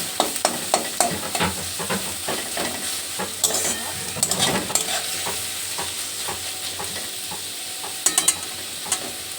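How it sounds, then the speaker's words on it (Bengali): Onions fry in oil until reddish, with a constant close sizzle and busy stirring scrapes and clicks of a utensil against the pan throughout, no one speaking. "পেঁয়াজটা আমি লাল লাল করে ভেজে নেবো"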